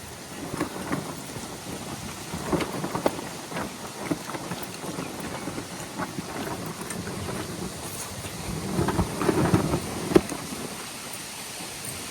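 Steady monsoon rain pours throughout with low rumbles of thunder rolling underneath, swelling louder toward the end.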